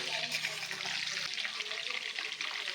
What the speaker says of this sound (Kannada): ಒಂದು ಮೂರು ನಿಮಿಷ ಆದರೂ ಚೆನ್ನಾಗಿ ಫ್ರೈ ಮಾಡಿ